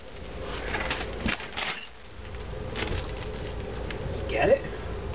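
A nest of yellow jackets gives off a steady, close-up buzzing drone with scattered insect fly-bys, while people talk over it in brief bursts.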